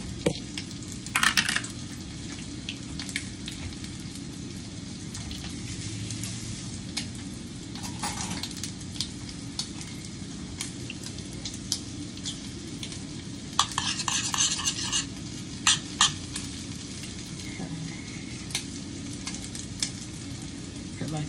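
Butter melting in a hot pan before Italian sausage goes in, a steady soft sizzle and hiss running throughout, with occasional clinks and scrapes of a utensil against the pan.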